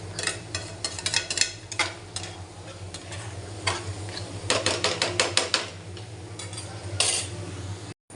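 Chilli masala sautéed in oil before prawns are added, with steady stirring and scraping over a low hum, clusters of ticking spatula strokes and a light sizzle throughout.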